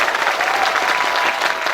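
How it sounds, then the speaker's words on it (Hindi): Steady, dense applause from an audience at a kavi sammelan poetry recital during a literature festival fills the whole stretch, loud and close with no voice over it. "ये तालियां अपने लिए कभी कमजोर नहीं होनी चाहिए"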